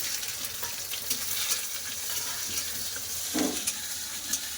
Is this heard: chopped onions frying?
yes